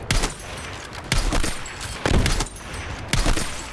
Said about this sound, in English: I do love the sound design where you kill someone, especially when you headshot them as a sniper.